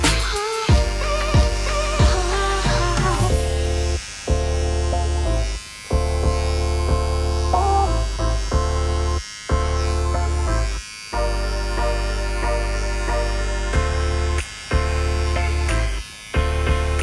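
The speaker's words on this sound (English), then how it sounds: "So come on top, do a precise cut, and drag the clipper down" An electric hair clipper buzzing loudly up close during a low skin fade, a steady motor drone broken by brief pauses as the clipper is lifted and dragged down again in repeated strokes, no talking.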